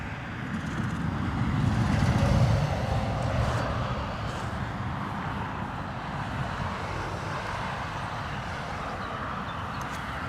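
A Loganair Embraer E145 jet roars at Dublin Airport in a crosswind, a broad steady engine rumble that swells and then holds, with wind buffeting the microphone.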